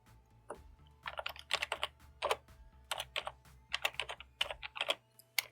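Rapid keystrokes on a computer keyboard as a web address for a mail site is typed, irregular clusters of close, crisp clicks with short pauses between bursts, over a low steady hum, no voices.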